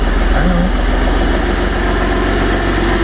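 A VW Polo 1.2 TD diesel engine ticks over just after start-up, a loud, close, steady idle with a rapid low knocking rhythm and a constant hum.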